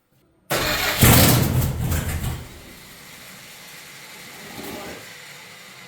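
A stock 440 Mopar big block with an oversized cam cranks loudly after a moment of silence and roars briefly as if about to catch, then drops to a quieter rumbling hiss that lingers without a clear idle.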